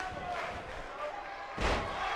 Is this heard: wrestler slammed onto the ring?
yes